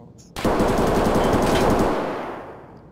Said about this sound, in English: I just heard your gunfire.